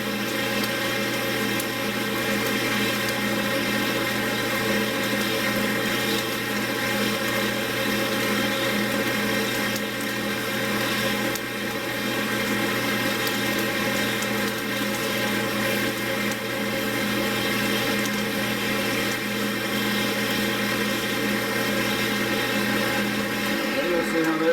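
A stabilized, rotten woodturning blank is wet-sanded at 220 grit on a spinning lathe, a steady loud motor hum with an even, continuous rasping whir for the whole stretch and no talking.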